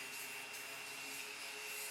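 Power carving unit sanding a wooden toy part: a faint, continuous abrasive rubbing whir with a steady tone, no pauses and no voices.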